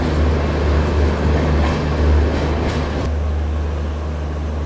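The Shan-e-Bhopal Express standing at a station, heard as a loud, steady low diesel rumble and hum with broadband rail noise, easing slightly partway through, no voices.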